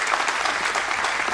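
Steady, dense clapping from a large audience at a documentary film festival gala, greeting jury president and Turkmen director Narlıyev, sustained and fairly loud with no pauses.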